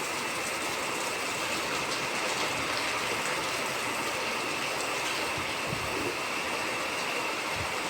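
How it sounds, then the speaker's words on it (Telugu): Heavy rain hammers down on a tin roof in a constant, dense, loud roar, with no talking and only a few low thumps under the drumming. "చూడండి ఎలా పడుతుందో డబ్బా నుంచండి వర్షం, ఎంత గట్టిగా పడుతుందో అంతా వస్తుంది"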